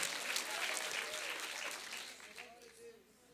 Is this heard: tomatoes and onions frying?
no